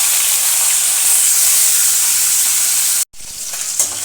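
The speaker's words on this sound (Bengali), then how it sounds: "মাছটা উল্টে পাল্টে খুব ভালো করে ভেজে নেব।" Shol fish frying in mustard oil as it is turned over, a loud, steady close sizzle with a brief cut near the end before the hissing resumes.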